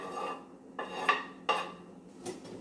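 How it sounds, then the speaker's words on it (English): Chopped spring onions are sautéed in a pan for scallion soup, heard as a few distinct spatula scrapes and clinks against the pan, spaced about half a second apart over a soft background, with no one speaking. "So what I want to do is just put that into the pan and saute it."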